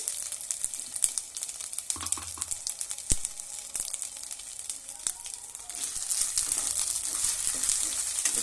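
Onion fries in oil or ghee with a steady crackling sizzle and scattered sharp pops and taps, the hiss growing a little denser toward the end.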